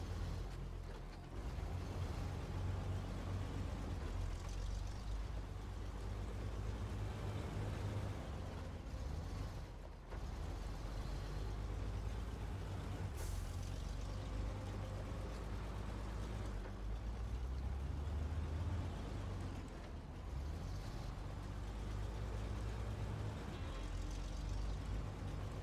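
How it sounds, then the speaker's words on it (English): Loud, steady low engine drone of the Mastodon truck in a video game, continuous rumble with slight swells as it drives, no talking over it. "you run the Mastodon so much, it's so loud."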